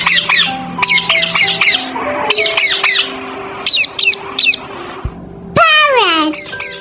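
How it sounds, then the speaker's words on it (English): A parrot squawks and chatters in a rapid series of loud, close, harsh calls, ending with a long rising-and-falling screech, with a voice speaking briefly around it. "for parrot."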